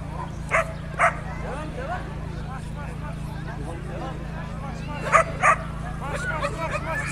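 Dogs bark at the Antalya Dog Show 2022, with a few sharp, loud barks in pairs rising above a steady crowd and ground hum, then quieter yips in between.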